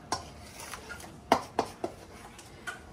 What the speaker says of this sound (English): I stir it, and I taste it